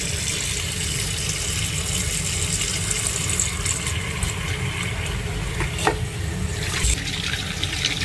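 Goat meat is washed under a running kitchen tap, water pouring steadily into the sink with occasional splashes and clatter as the pieces are rinsed, close and continuous.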